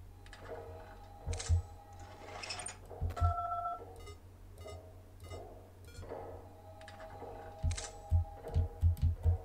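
A phone ringing inside a FNaF horror video game gives a sequence of electronic tones and beeps, with low thumps in bursts that grow busier toward the end.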